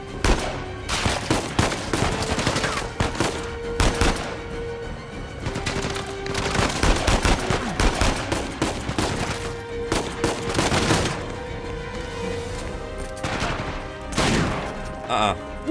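Repeated bursts of gunfire in Uncharted: Legacy of Thieves, with sharp cracks and short automatic volleys recurring every second or two over ambient game noise and music tones, loud and close throughout.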